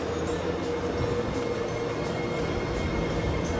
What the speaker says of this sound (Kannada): ಸೊ ಇದು ಈ ಟ್ರೈನು ನಮಗೆ ಇವಾಗ ಏರ್ಪೋರ್ಟ್ಗೆ ಹೋಗುತ್ತೆ.